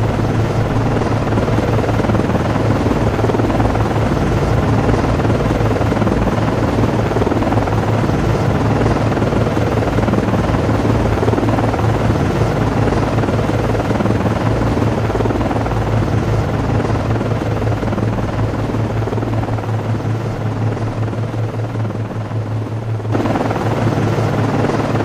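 ASW helicopter returning to base in the Cold Waters naval game, a loud continuous rotor thrum and engine whine near the frigate USS Nicholas FFG-47, steady throughout with a slight dip near the end.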